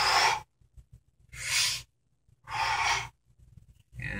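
A person demonstrating forceful breathing for an overhead press, with three loud, sharp exhalations spaced about a second apart and short quiet gaps between them, close up with no speech.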